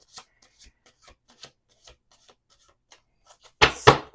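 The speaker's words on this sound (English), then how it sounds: "2 more shuffles." Tarot cards being shuffled by hand, a few faint riffling rustles and soft card taps followed by two loud, close bursts of cards being riffled together near the end.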